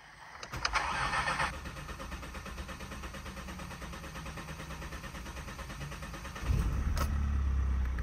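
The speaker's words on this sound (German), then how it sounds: "Beim ersten Start nach dem Wechsel kann es etwas dauern, bis das Auto startet." An Opel Astra K diesel engine cranks steadily for several seconds after a fuel filter change, then catches near the end with a louder, deeper rumble and settles into a running idle, close and clear with no talking.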